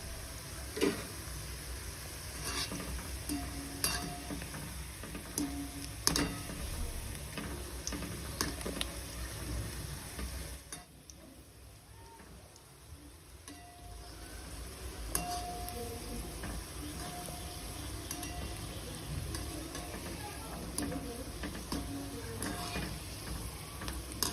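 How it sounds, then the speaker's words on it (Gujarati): Onion bhajiya fry in hot oil over a low flame, giving a quiet, steady sizzle with scattered small pops and ticks that briefly softens partway through. "આવી રીતના આપણે તળી લઈશું। એકદમ થોડા બ્રાઉન જેવા થવા દઈશું।"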